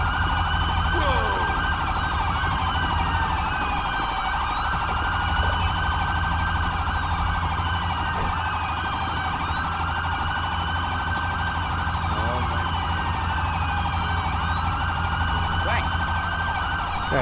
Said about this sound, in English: we could shoot off the sirens, please